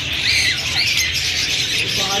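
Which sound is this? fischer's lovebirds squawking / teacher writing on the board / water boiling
fischer's lovebirds squawking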